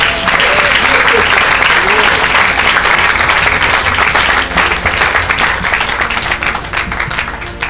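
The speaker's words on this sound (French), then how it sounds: "Acclamez le Seigneur" A church congregation applauds together in a dense, steady wash of clapping, with voices mixed in, holding strong before easing slightly toward the end.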